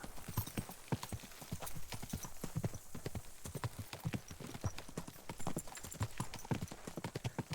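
Hoofbeats of horses being spurred along in Kingdom Come: Deliverance II, a fast, continuous clip-clop pattern, close and fairly loud, with no voices.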